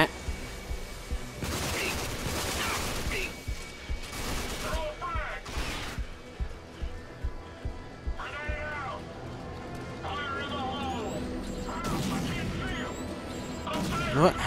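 Gunfire in the video game Rage comes as rapid bursts and a string of rhythmic shots, with sharp game effects over a busy background.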